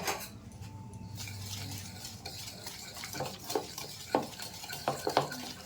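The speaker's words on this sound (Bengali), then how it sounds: "এটাকে আমি ভালো করে ফেটিয়ে নিচ্ছি" An egg and oil are beaten together in a bowl, a utensil scraping and clinking against the sides in quick uneven strokes, close and clear with no talking over it.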